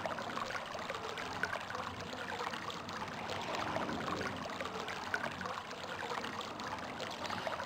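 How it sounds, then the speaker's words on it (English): Soft, continuous flowing water in the Selenetic Age of realMyst, a steady trickling stream heard faintly and alone without speech. "Picking up the water sound."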